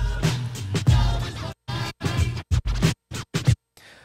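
DJ scratching on a Numark Mixtrack Platinum FX controller: choppy bursts of scratched sound in rapid cuts and stutters, with short silent gaps between strokes, close and fairly loud.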